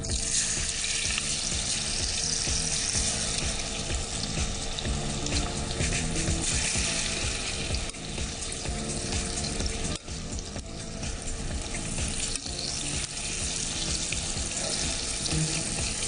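Food goes gently into hot oil at medium heat and fries with a dense, steady sizzling hiss, close and continuous throughout with no talk.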